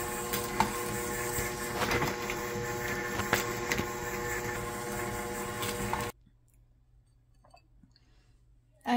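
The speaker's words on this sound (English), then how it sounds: "I will now be turning it on to mix it together until the butter and sugars are mixed together" An electric mixer creams butter with brown and white sugar for cowboy cookie dough, a steady close whirring with rattling clicks for about six seconds, then it cuts off to near silence.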